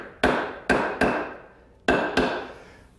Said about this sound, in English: Set that over the marks and tap it in place with a soft mallet.